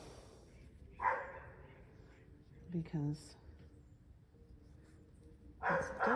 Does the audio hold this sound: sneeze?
no